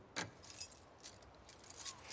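A set of keys jangles in a few quick metallic shakes, faint and close, in a quiet scene from The Last of Us Part II.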